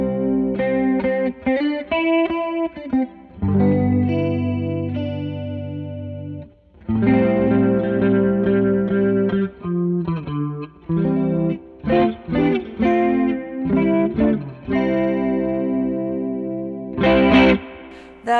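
An electric guitar playing chords and short phrases through a dual chorus/vibrato pedal, with a lush, wavering, shimmering tone. Notes ring and sustain with brief pauses between phrases, and there is no talking.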